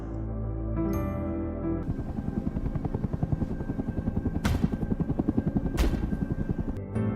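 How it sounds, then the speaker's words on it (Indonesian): A helicopter's rotor chops in a fast steady rhythm, loud and close, with a droning engine whine and no voices. "ada suara helikopter datang"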